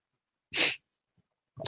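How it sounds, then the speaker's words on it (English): A single sharp sneeze close up in a quiet room, followed by a soft sniff and breath. "I'm going to sneeze"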